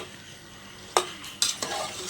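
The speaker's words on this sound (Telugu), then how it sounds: "ఇంగు తర్వాత కూడా మళ్ళీ ఒకసారి మిక్స్ చేస్తున్నాను" Asafoetida tempering stirred in a hot pan while making sambar, a few short scrapes and sizzling bursts breaking a quiet start, close and fairly soft.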